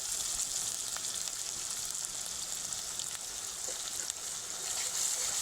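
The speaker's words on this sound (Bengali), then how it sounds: "আদা রসুনটাকেও এক মিনিট মতন ভেজে নেব" Ginger-garlic paste frying in a pan over low-to-medium heat, a steady soft sizzle with faint crackles throughout, no talking.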